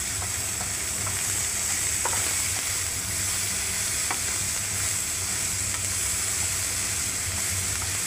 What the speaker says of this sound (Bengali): পেঁয়াজগুলোকে ভেজে নেবো ভালো করে